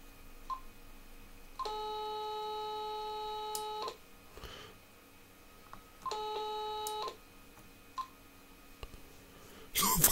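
Telephone dialing tones as a call is placed: two long steady beeping bursts separated by quieter gaps, with faint clicks in between and a sharp noise at the very end.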